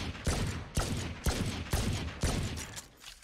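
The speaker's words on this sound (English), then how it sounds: "Very high-pitched, futuristic gun noises" A futuristic gun with the Protokoll 781-A skin in Valorant fires five evenly spaced, sharp, high-pitched shots, each with a short ringing tail. The shots are close and clean, and no one talks.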